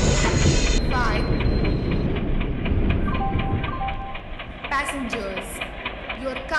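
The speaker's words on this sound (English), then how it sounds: "Train number 12655 Passenger Express is arriving at platform" A passenger express train arrives at a station platform in the Indian Train Simulator game, with loud rolling rumble and rhythmic clickety-clack that eases toward the end, plus brief high wheel squeals.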